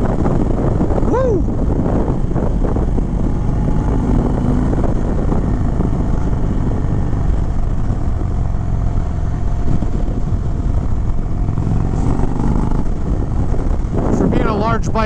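A 2021 Indian Chief Springfield Dark Horse motorcycle rides along the road, its engine droning steadily under heavy wind rush, with a brief voice near the start and end.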